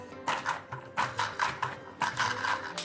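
A kitchen blender pulses almonds and water for almond milk in short intermittent bursts, three loud whirring pulses of motor grind with brief gaps between them, close by and without speech.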